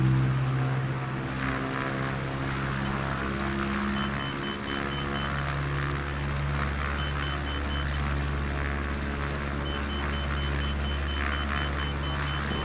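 A light aircraft engine drones steadily during a takeoff run in Microsoft Flight Simulator 2024, a loud continuous propeller hum with constant level and faint higher tones, no talking.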